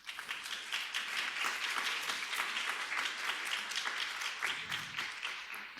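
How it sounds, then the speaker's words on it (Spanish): A room full of people at an academic economics meeting applauds a professor being introduced: dense, steady clapping that holds at an even level for several seconds with no voices over it. "les pido un aplauso al profesor Loría"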